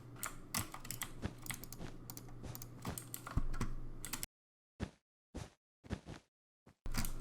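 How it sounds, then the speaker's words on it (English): Computer keyboard keys W and D are pressed during a wall-running game, a run of crisp, close clicks and taps, dense at first and then in short separated bursts with silent gaps. "you can hold down W and D or W and A while doing it to make it go a little bit faster"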